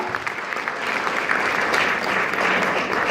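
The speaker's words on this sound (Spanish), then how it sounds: "denle ese aplauso fuerte al Señor" A church congregation claps loudly and steadily in dense, continuous applause for God during a service, with a faint voice underneath.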